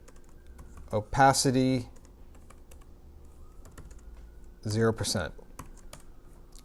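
Two short bursts of computer keyboard typing, a quick run of keystrokes near the start and another a few seconds later, separated by quiet room tone, with someone speaking briefly.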